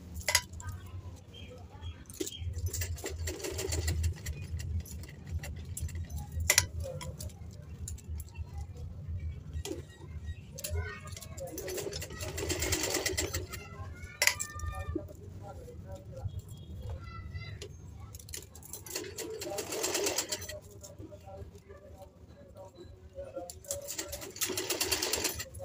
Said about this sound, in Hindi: देखिए अब हमने इसे गले पर सिलाई लगानी है।